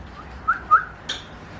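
A pet parrot whistles a few short rising notes, close and clear, followed by a brief sharper chirp, in a quiet room.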